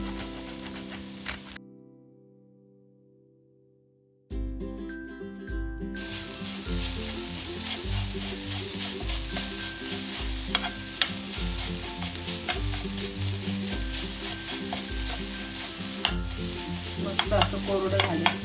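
Coconut filling with cardamom and poppy seeds being stirred in a pan, a steady scraping and sizzling that runs nearly throughout, with a brief silent gap early on.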